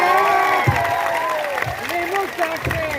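An audience at a live comedy show applauds and cheers in a steady wash of clapping, while voices and tonal sounds carry over the top.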